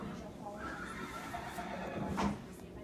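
Horses that have just had their legs washed and been walked; one gives a clear neigh near the end amid faint hoof clops, with people talking quietly in the background.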